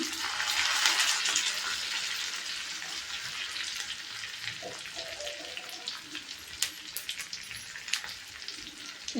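Curry leaves hit hot oil while tempering is made for Maharashtrian kadhi, giving a bright, hissing sizzle that is loudest at first and then settles into a steady crackle with small pops and light stirring.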